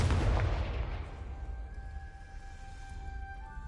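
A Confringo fire spell blasts in Hogwarts Legacy on PS5, a heavy booming burst that hits at the start and decays into a lingering rumble, with faint tonal ringing trailing afterward.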